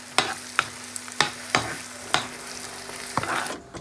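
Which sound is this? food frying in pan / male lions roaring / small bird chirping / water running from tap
food frying in pan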